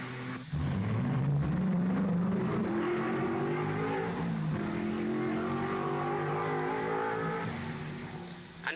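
A 1955 Formula 1 race car engine at the Monaco Grand Prix, driven sliding through the chicane, roars loud and close with rising and falling revs that sweep steadily for several seconds, alone without any talk.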